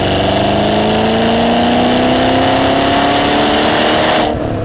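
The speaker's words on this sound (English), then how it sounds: "It's the sort of character that you expect, again, from an American V8." A 2-valve-per-cylinder American V8 in an MG ZT 400 sports saloon revs hard, its tone climbing steadily and loudly for several seconds before cutting off abruptly.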